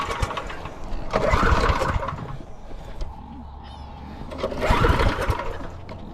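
A small farm engine used to prime a pump is pull-started in two rough, sputtering bursts of cranking with a lull between them, outdoors on a rainy day.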